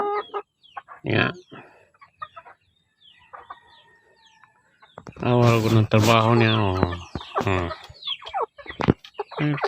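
Chickens cluck and squawk nearby, with a louder burst of calls midway, while people talk over them.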